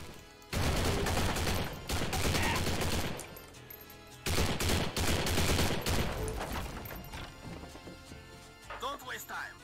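Bursts of rapid automatic gunfire from the video game Postal 4, loud and close, in two long sustained volleys separated by a brief lull, followed by scattered fainter shots and effects.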